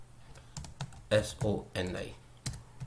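Keys clatter on a computer keyboard while typing into an Excel spreadsheet, in short bursts of fast taps close by, with a voice speaking briefly over part of it.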